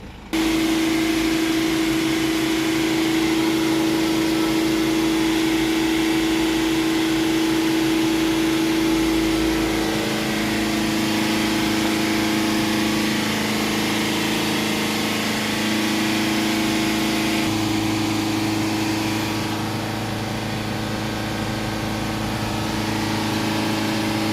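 A Mercedes Sprinter 2.1 diesel engine with a blocked particulate filter runs steadily at raised revs, a constant loud drone with a strong humming tone that shifts pitch slightly partway through.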